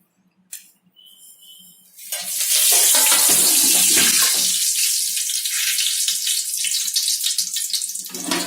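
Cumin seeds and curry leaves dropped into hot oil, erupting into a loud, sustained crackling sizzle after a brief quiet start, holding strong and close with popping spatters throughout.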